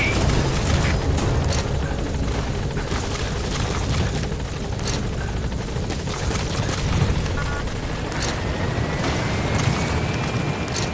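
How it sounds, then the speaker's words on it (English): Support helicopter arriving at a landing zone in Metal Gear Solid V: The Phantom Pain, a loud continuous rotor roar and engine rumble filling the scene with steady thumping texture, no voices over it. "Support helicopter has arrived."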